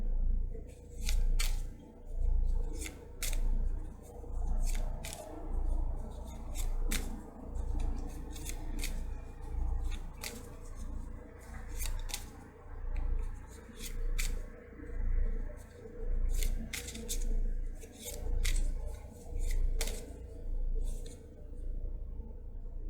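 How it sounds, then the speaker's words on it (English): Tarot cards being shuffled during a reading, a steady run of soft rhythmic riffles and crisp card snaps repeating close by for the whole stretch, with a low background hum and no talking. "And we shuffle until Spirit says it's time to stop."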